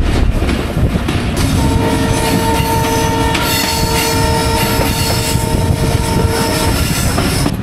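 The Kanchan Commuter passenger train takes a curve past Kanchan junction onto the Panchagarh line, its wheels squealing in sustained metallic tones over a loud, continuous rumble of carriages on the rails.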